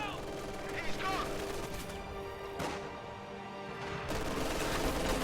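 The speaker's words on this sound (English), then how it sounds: "Enemy machine gun!" Machine-gun fire from an enemy position in a war video game, rapid bursts and crackling shots with crashes, heard over a busy battle mix with a voice speaking.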